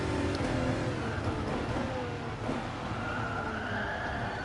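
A continuous diesel car engine rumble in the racing game GT Sport, a gravelly low drone, steady and fairly quiet, with faint shifts in pitch but no clear revving or speech.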